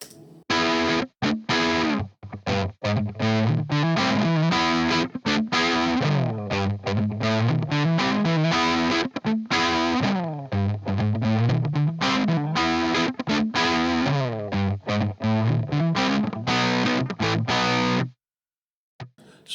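An electric guitar riff played through a fuzz pedal, thick, saturated and continuous for most of the passage, with chugging rhythmic notes and sliding phrases before it cuts to near silence at the end.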